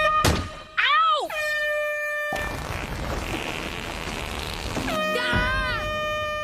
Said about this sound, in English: Yeah, he uses that air horn a lot, doesn't he?